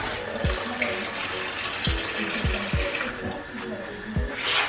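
Water poured into a cooking pot of beans and salt for an Angolan moamba stew, a soft steady splashing fill with a few low knocks, fairly quiet in a home kitchen.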